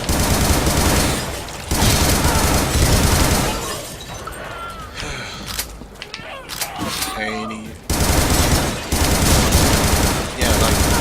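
Rapid gunfire from the player's weapon in the pixelated shooter game Butcher, dense bursts of loud repeated shots with a quieter gap mid-clip before firing resumes.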